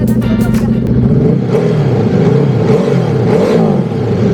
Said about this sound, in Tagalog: Kay Boss Eric tong Ducati Hypermotor na naka-SC project.